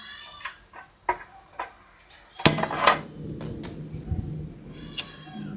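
A metal oil pan is set down on a kitchen stove with scattered clanks and one loud metallic clang midway, while voices murmur nearby.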